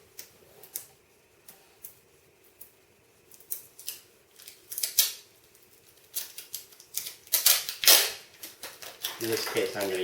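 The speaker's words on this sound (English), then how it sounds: "I'm going to cut another piece of tape here" Tape being cut for Tyvek pollination bags: a run of sharp, quiet snips and ticks spaced irregularly across the span, growing denser and louder toward the end, with a few brisk rustles.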